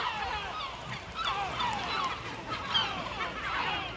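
Gulls call at a nesting colony on Île des Landes, a chorus of overlapping nasal cries and yelping calls of varying distance over a steady outdoor background, with no one speaking.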